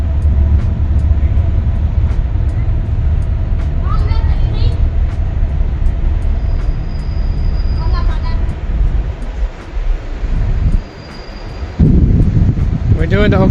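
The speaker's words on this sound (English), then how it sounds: "Let's zoom in as the train goes by." A train rumbles past on an Oklahoma City river walk, a steady loud roar with wind buffeting throughout, briefly dropping then surging again near the end.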